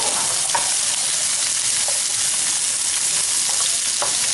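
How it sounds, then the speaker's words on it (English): Onion and peppers sizzle in a hot pan, a loud continuous frying hiss broken by a few faint clicks as they are stirred, with no talk. "I'm going to saute these until they start to soften."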